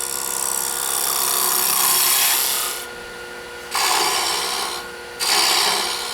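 A woodturning gouge cuts inside a small Christmas ornament on the lathe, the bevel rubbing as it excavates. A steady, loud scraping hiss runs in three close bursts, broken by two short quieter gaps.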